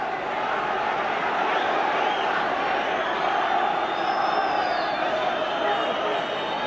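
Stadium crowd at a Celtic v Dundee United Scottish Cup 4th Round football match in 1992, a loud, continuous roar of thousands of voices with a commentator speaking over it.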